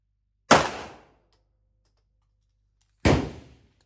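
Two loud, sharp gunshots from a firearm being test-fired, spaced about two and a half seconds apart, each with a short fading echo in an otherwise quiet setting.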